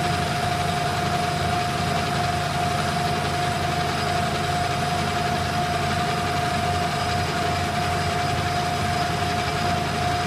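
A metal lathe turns steel, throwing off small curly chips, with a loud, steady machine hum and a constant whine that runs unbroken throughout.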